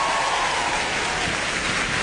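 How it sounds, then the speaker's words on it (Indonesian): A stand-up comedy crowd claps continuously in a dense, even burst of applause, loud and close, with no speech on top. "boleh tepuk tangan."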